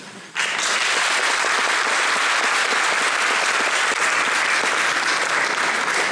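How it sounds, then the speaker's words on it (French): Sustained applause from an audience thanking teaching staff, breaking out abruptly after a brief quiet moment and holding loud and even throughout. "Si vous souhaitez leur témoigner vos remerciements par des applaudissements"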